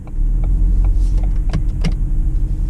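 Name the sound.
Ford Fiesta car pulling off in drive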